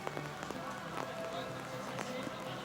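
Rain pattering steadily on surfaces at an outdoor recurve archery semifinal, a soft continuous hiss with scattered drop ticks beneath a commentator's voice.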